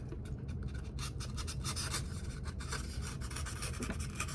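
Steady rubbing and scratching as texture is worked into styrofoam dungeon tiles to look like concrete slabs, a continuous close abrasive rasp with quick strokes and no talking.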